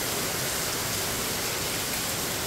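Steady, dense rain hisses evenly throughout, a close and continuous wash of sound with no voices.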